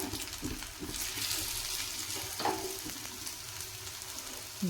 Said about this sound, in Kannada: ಈ ಥರ ಚೆನ್ನಾಗಿ ಬೇಯಲಿ, ಇದು ಒಳಗಡೆ ಎಲ್ಲ ಫ್ರೈ ಆಗಲಿ